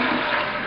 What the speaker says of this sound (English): Aaron, you have to flush the toilet.